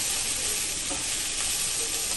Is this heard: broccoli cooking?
yes